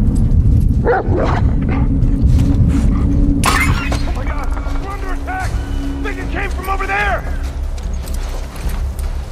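A dog in The Last of Us Part II barks, yips and whimpers amid a loud crash of shattering glass and game noise, with voices talking over the action.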